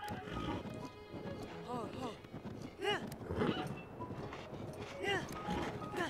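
A nearly black horse in The Legend of Zelda: Breath of the Wild whinnies and snorts several times, with rhythmic hoofbeats and low background noise, at moderate volume.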